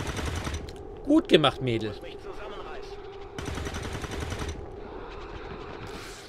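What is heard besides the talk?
gunfire in video game XCOM 2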